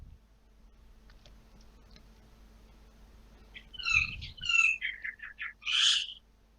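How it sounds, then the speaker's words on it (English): Birds call outdoors near trees and a house in a country setting, with a series of short, clear chirps and whistles rising out of a quiet background in the last few seconds. "I can hear birds."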